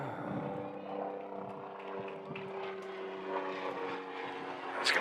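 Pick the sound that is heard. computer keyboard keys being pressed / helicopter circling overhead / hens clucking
helicopter circling overhead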